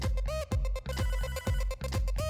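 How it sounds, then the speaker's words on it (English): A phone rings in the Hotline Miami video game, a repeating electronic trill in quick bursts with short gaps. It plays loud and clear over a thumping synth beat from the game soundtrack. "The phone's ringing."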